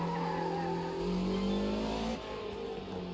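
A race car on cold tyres slides around a track in a racing video game, its engine holding a loud, steady drone whose pitch climbs and dips, with a slight drop in intensity near the end.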